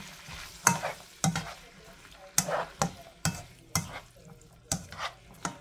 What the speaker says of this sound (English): And now I'm going to mix this all together